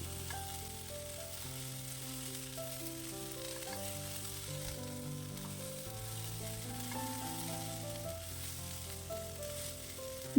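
Thinly sliced onion and raw plantain sauté in oil in a pan, giving a soft, steady sizzle with occasional stirring clatter close by.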